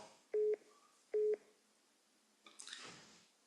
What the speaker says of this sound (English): Well, I'm getting a call.